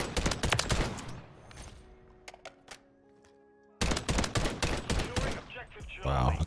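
Rapid gunfire from a KVD Enforcer in the video game Call of Duty: Modern Warfare III crackles in dense bursts, dropping to a quieter lull before the shooting resumes loudly, with game sounds mixed in.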